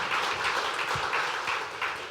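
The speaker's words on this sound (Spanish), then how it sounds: "Denle un aplauso al Señor." A church congregation applauding during a Spanish-language sermon, a dense steady wash of many hands clapping together, moderately loud and filling the room, with no clear voices on top.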